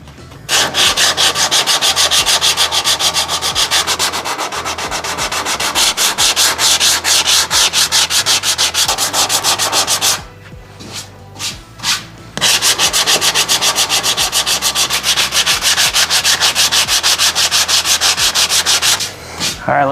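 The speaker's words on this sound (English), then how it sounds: "Let's do our final sand, huh? Like I said, you want to go cross pattern and try to make it as even as possible" Car body filler on a dent repair is hand-sanded in a cross pattern, with fast rhythmic rasping strokes that are close and loud. The strokes stop briefly partway through, then resume.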